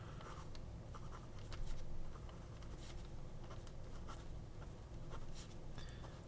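A Hongdian fountain pen's medium nib scratches across paper in short strokes, a faint, intermittent rasp with brief pauses between marks over a low background hum.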